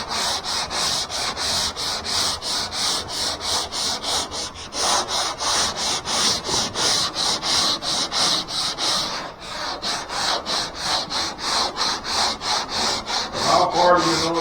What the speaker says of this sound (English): How far do you know to sand that? Till it's all light.